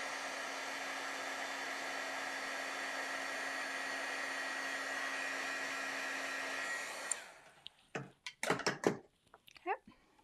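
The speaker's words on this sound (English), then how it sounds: "Get my heat tool warmed up and we'll melt the powder." A heat tool for melting embossing powder on a card runs as a steady, loud blowing whir with a faint hum, then shuts off and gives way to a few clicks and light handling noises.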